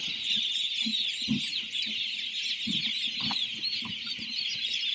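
Chickens on a poultry farm cluck in soft, irregular bursts while being given injections, with a constant high-pitched chorus of many birds chirping in the background.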